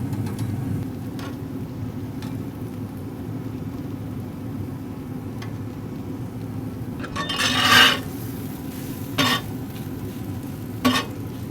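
Bacon crackles softly on the hot cooking surface of a Yoder YS640s grill, a low steady sizzle under a faint rumble, broken by a few sharp scraping clatters as the strips are pushed aside.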